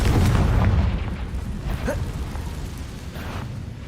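A Confringo fire spell blasts in the video game Hogwarts Legacy, a heavy booming explosion that rolls out loud at first and then fades into a lingering rumble.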